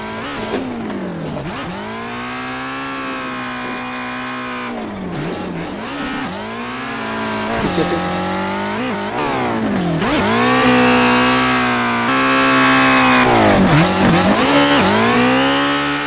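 A Chevrolet Omega drifts in the racing game Assetto Corsa: a loud, continuous simulated engine surges and drops through repeated revs and gear changes, with tyre squeal rising as the car slides, and no talking.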